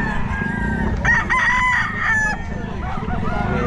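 A young rooster crows loudly and close by at a busy pet market, one strained, wavering call over a background of market noise and other fowl.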